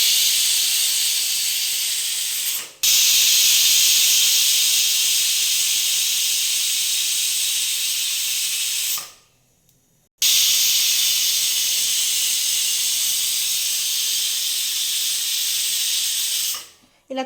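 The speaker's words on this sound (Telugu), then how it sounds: "ఇలా 3 విజిల్స్ వచ్చాక గ్యాస్ ఆఫ్ చేసుకుందాం" A pressure cooker on a gas stove, cooking bagara rice, gives off long, loud, piercing hissing whistles, three bursts of steam separated by brief near-silent gaps.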